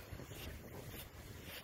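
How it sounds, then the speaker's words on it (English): Ocean waves at a beach during an October walk make a steady, faint wash, blended with wind noise on the microphone and no voices. "Waves there."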